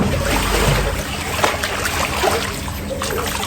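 An Alpacka packraft tipped over in a backyard pool, water sloshing and splashing close to the microphone with a heavier surge near the start, then lighter dribbling and churning, no voices.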